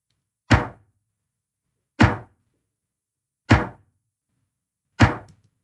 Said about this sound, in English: So I believe this is a snare from that.